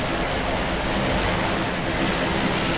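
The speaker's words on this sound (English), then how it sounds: "And now the match is starting. We're in a big plane." Large aircraft engine drone inside a big transport plane in PUBG: a loud, constant, dense roar with no breaks, filling the whole stretch.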